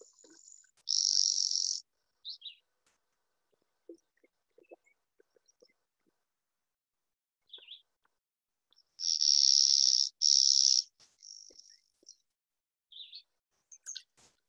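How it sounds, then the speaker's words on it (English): A clay-colored sparrow's flat, insect-like buzzy song, delivered in a few separate bursts of steady buzzing with quiet gaps and faint chips between. "the clay-colored sparrow just has this very non-musical buzz to it"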